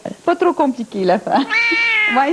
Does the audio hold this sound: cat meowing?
yes